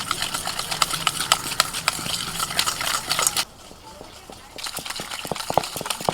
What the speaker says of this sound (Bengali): এবার ভালো করে মেশাবো।